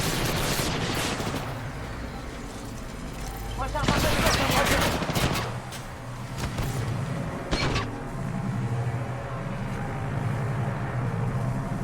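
Gunfire in the video game Apex Legends, sustained rapid shooting with a louder dense burst in the middle and sharp shots later, with voices talking over it.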